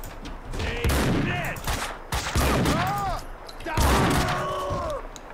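Rapid gunfire bursts from an enemy in the shooter Max Payne 2, loud and close in several sharp volleys, mixed with groans and thuds from the game.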